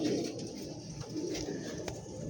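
Pigeons coo in a loft, their soft throaty calls rolling in low, repeated pulses close by, with a faint rustle in the background.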